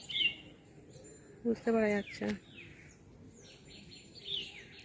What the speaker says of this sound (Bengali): দেখো কত রকমের পাখি, দেখো সামনের দিক দিয়ে গেল, কি সুন্দর ডাকছে